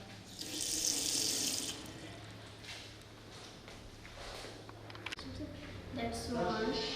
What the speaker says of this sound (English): This is tap running water.